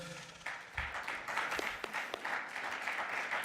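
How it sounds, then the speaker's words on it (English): An audience at a panel discussion on education applauds a speaker being introduced, a soft, diffuse patter of many hands that swells after a quiet start and stays fairly even, heard from a distance. "please give a round of applause to Dr. John Mendelsohn"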